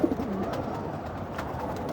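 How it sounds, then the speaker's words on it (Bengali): Grizzle pigeons coo softly in a home loft, a low murmuring call near the start over a steady background hum, with faint fluttering ticks and no talk. "এই সব কবুতরগুলি"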